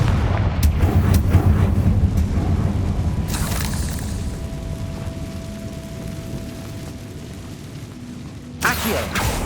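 The Confringo fire spell blasts in the video game Hogwarts Legacy, a loud booming explosion that opens the clip and rumbles on, followed by a lighter clatter and a second sharp burst near the end.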